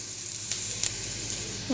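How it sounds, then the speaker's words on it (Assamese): Onions sizzle steadily in a little oil in a pan while cooking an Assamese dish, with a few faint clicks and a louder burst of sizzling near the end. "অলপ তেলত ভাজি ল'লে খাই পেলাই সোৱাদটো বেলেগ হয় খাবলৈ।"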